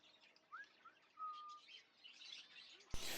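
Zebra finches give a few short, bright chirps and one longer whistled note, fairly close against a soft background hiss, followed by a sudden loud burst of noise at the end.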